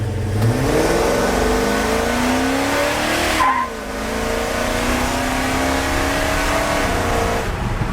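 A car with a big-block engine runs loud and close, revving with rising and falling pitch, holding a strong throaty roar throughout.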